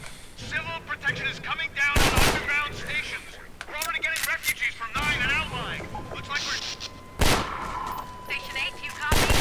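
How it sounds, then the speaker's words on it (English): Gunfire bursts from a machine gun turret in the Half-Life 2 canal level, loud blasts and rattling volleys mixed with overlapping voices and radio-like game chatter throughout. "That's a machine gun turret."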